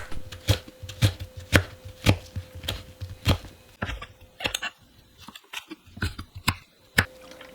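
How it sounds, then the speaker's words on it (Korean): A knife chops through scallions and halved red chilli on a board in crisp, evenly spaced strokes, then shifts into a looser, quieter run of cuts. "홍고추를 반 갈라 어서 썰어 주세요."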